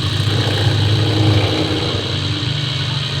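A video game car's engine revs loudly and steadily at speed, a continuous droning roar with no talking.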